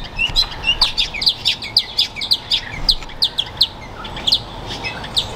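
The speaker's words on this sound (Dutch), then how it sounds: "Hier heb je ook van die vogeltjes." Small yellow birds chirp in a rapid, repeated series of bright, high tweets, loud and close on a walk past an animal enclosure, with no talking.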